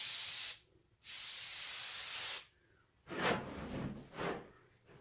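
Spray paint hisses in loud, close bursts onto a coyote taxidermy mount: two long sprays, then a few shorter uneven puffs, with no talking.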